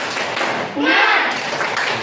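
A group of students in a classroom do a rhythmic spirit clap, a short patterned burst of claps under and between spoken voices.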